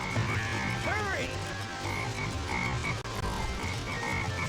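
A black frog croaks in the Sonic Heroes rainforest stage, with a few warbling, sliding calls rising over a dense, steady bed of jungle ambience and game music, fairly close and clear.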